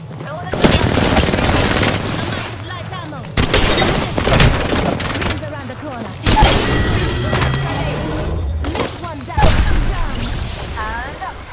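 Dense Apex Legends gunfire, sustained bursts of rapid shots and loud booming impacts in several heavy waves, with in-game voice lines and chatter mixed underneath.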